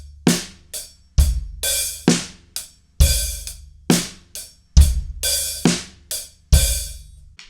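A slow drum-kit groove for a song, with deep kick hits and bright crashing cymbal strokes falling in a steady repeating pattern, played alone and close.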